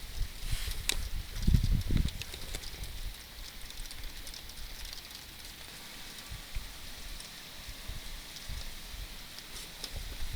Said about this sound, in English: It's definitely raining heavier now.